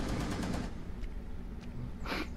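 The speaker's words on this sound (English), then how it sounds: "What are you shooting at?" Rapid automatic gunfire in Rainbow Six Siege, a dense burst of shots for under a second, then a brief pause and a second sharp shot near the end.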